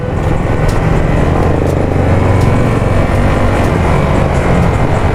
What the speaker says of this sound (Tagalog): stock na exhaust talagang ang naririnig mo lang makina